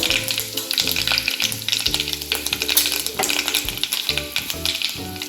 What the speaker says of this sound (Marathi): तेल आहे यामध्ये ही मोहरी घालायची हिंग घालूया